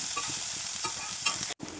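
Close, steady sizzling as chopped shallots, garlic and black pepper fry in a pan, with light stirring scrapes and a brief pause near the end.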